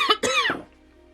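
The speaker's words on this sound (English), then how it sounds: "I had a bit of a coughing fit" A person coughs a few times in quick succession, close to the microphone, with two sharp bursts followed by a softer third before quiet returns.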